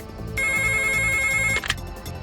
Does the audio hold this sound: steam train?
no